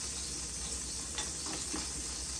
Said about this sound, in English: our pan is hot and sizzling